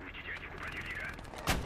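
Battle in the World War II Eastern Front video game Call to Arms Gates of Hell Ostfront. A low, rumbling din of combat runs throughout, then one sharp, loud, close gunshot cracks out near the end.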